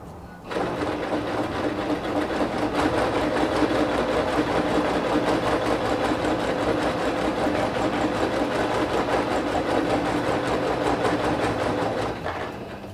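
Continuous sewing machine stitching runs through a sewn photo album for nearly the whole stretch, a steady, close mechanical whir with no pauses.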